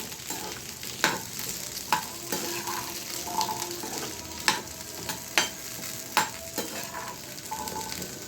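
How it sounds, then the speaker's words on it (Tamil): Shallots sauté in a pan toward golden brown, a soft continuous sizzle broken by regular sharp clicks and scrapes of a spatula stirring every second or so. "இது நல்லா ஒரு 4 to 5 minutes இந்த கோல்டன் ப்ரௌன் ஆகிற வரைக்கும் நம்ம வந்து இதை வதக்கிடலாம்"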